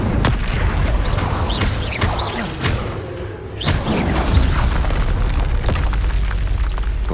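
Fiery Incendio spell blasts from Hogwarts Legacy combat, a series of loud booming bursts with sharp transient hits over a dense, rumbling battle soundscape, continuing throughout.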